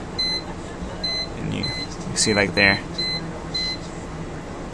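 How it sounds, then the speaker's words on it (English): A PC fan controller gives several short electronic beeps in steady pairs over a low fan hum, with a person speaking briefly in the middle. "It also makes a beeping noise."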